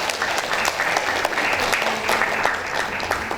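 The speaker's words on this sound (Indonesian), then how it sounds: "Tepuk tangan dulu untuk anak-anak kita" Audience of parents applauding children at a school Quran completion and examination ceremony in Pangandaran, steady continuous clapping from a crowded hall, full and even throughout.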